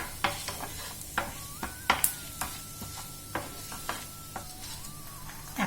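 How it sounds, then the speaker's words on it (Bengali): Cumin seeds and two dried red chillies fry in hot oil as a tempering for tomato rice, a soft, quiet sizzle broken by occasional spoon stirs and taps against the pan. "এবার ফোড়নটা আমি একটু ভাজা করতে দেব।"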